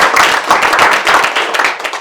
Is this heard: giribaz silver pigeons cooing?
no